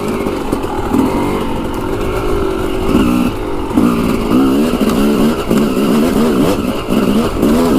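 A motorcycle ridden on a rough, rocky track, its engine loud and close throughout, revving up and down repeatedly with strong wind noise over it and no talking.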